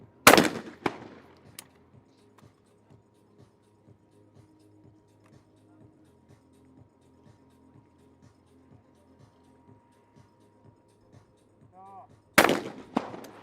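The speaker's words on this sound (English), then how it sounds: "And Fernandez shooting perfectly." Two sharp, loud shotgun blasts at the men's trap final of the ISSF World Cup in Lima, Peru, one at the start and one near the end, separated by a stretch of faint, evenly spaced ticking.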